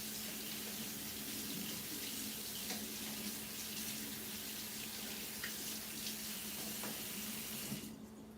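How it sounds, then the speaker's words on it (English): A tap runs steadily while a paintbrush with glue on it is rinsed under the stream, a continuous close hiss of water that cuts off near the end. "I'm gonna rinse out this because this is a really good brush and I don't want glue on it."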